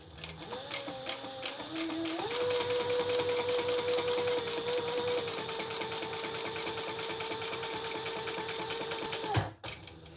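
A home sewing machine runs steadily for about nine seconds, stitching fabric without backstitching in a constant mechanical whir with a rising motor tone at the start, then stops abruptly.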